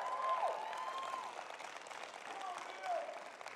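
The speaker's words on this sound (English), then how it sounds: "Thank you for the golf clap." A conference audience gives a light, polite smattering of applause, fairly quiet and thin, with faint voices and murmuring underneath.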